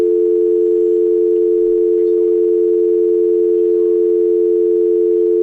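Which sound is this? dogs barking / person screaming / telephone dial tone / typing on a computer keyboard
telephone dial tone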